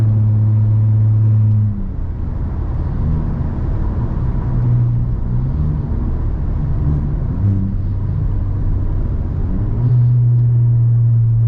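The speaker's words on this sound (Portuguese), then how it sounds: "Ó, a ressonância que dá reduzindo." A 2025 VW T-Cross with a straight-pipe exhaust and Stage 1 tune drones loudly and steadily, the engine note dropping and shifting pitch several times as it slows, with a deep resonant rumble throughout.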